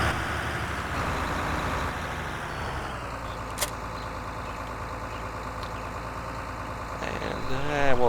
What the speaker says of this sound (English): You turn off the mower and the tractor revs down.